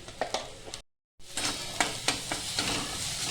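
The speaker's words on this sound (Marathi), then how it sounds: "मीठ आणि हळद आहे ना ही आपल्याला चांगली परतून घ्यायची" Green chilies with turmeric and salt sautéing in a pan, with steady sizzling, spatula scrapes and stirring clicks, broken by a brief silent gap.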